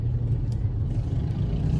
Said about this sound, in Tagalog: Kaya ma-traffic talaga dito sa area na to.